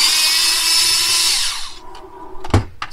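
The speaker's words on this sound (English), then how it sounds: "go ahead and take off the 6 screws on the bottom" A power screwdriver backs Phillips screws out of the underside of an older-style Kodak 5200 projector, whirring steadily for over a second before winding down, followed by a few sharp clicks and a knock.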